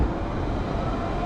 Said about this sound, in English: off goes another Central Line service, this one going towards Northolt